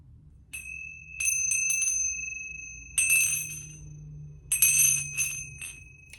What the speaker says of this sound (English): Then I got these Tingsha bells.